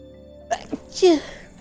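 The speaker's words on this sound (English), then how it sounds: "I'm gonna sneeze." A single close sneeze, with a quick sharp intake of breath before it and a bright vocal burst trailing off.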